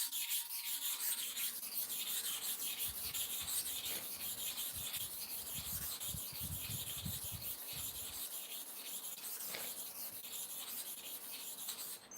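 Clipper blades are sharpened with a steady zigzag motion, giving a continuous close scraping and rubbing, even in rhythm and moderately loud throughout.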